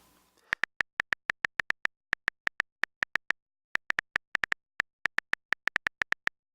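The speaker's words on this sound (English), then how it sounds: "One of them is a new keyboard sound, which is a welcome change." Apple iOS 10's new keyboard click sound plays as a crisp series of sharp, near taps, typed at an uneven rhythm of quick runs and short pauses with no other sound.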